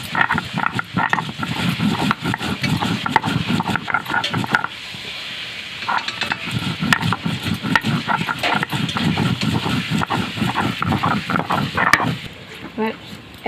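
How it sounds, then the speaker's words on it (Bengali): Ginger and roasted cumin are ground on a stone slab with a steady back-and-forth scraping rhythm, and a short pause partway through; no one speaks during the grinding. "জিরে বাটাটা বেটে নিয়ে"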